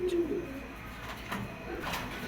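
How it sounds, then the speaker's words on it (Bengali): A pigeon of a fancy breed with one white side and one red side coos softly and close for about half a second at the start, followed by low murmuring and faint background noise. "দেখেন কবুতরটা"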